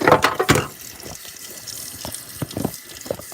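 Icy cold water running from a tap into a sink, with a loud splashing burst at first, then a softer steady stream with scattered drips and splashes close by.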